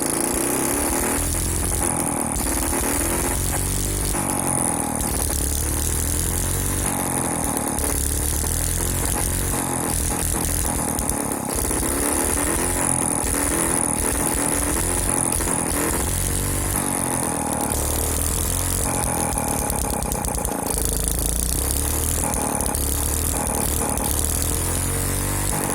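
A modified Chinese engine with a carburettor conversion runs steadily, a loud, continuous close-up mechanical drone with a rough, busy texture and slight shifts in speed throughout.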